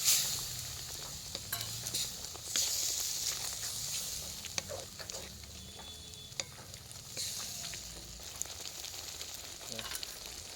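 Crab masala with turmeric and salt being stir-fried in a pan, a steady crackling sizzle with spatula scrapes and clicks throughout.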